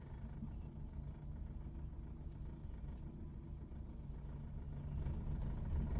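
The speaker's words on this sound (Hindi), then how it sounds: "अब बचा हुआ क्लच छोड़ दो, उड़ गई गाड़ी" A car creeps forward in first gear on half clutch with no accelerator, giving a faint, low, steady engine rumble that swells slightly toward the end.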